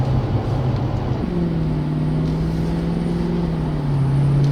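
A Mercedes CLK63 AMG engine drones loudly from inside the car on a test drive, its pitch climbing steadily and then dropping back as it revs.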